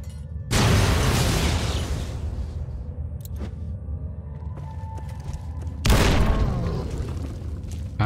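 Two heavy grenade blasts in the Fallout game, one about half a second in and another near six seconds, each a loud booming burst trailing into a long rumbling decay, with no voices.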